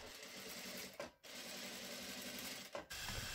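A domestic sewing machine stitching the final seam of a Regency chemise runs in a loud, steady mechanical whir, stopping briefly twice before starting again.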